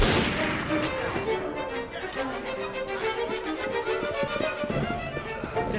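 Period musket volley fire and battle noise in Assassin's Creed Syndicate, a sharp burst at the start followed by scattered shots, hoofbeats and shouting voices in a busy, loud mix.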